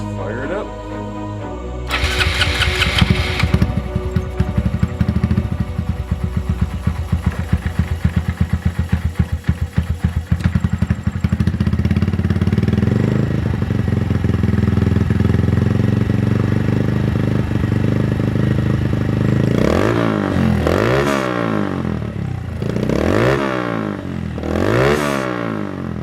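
A Honda Monkey motorcycle engine with a newly installed intake cranks and fires, settles into a steady close idle, then gets three sharp throttle blips that rise and fall near the end.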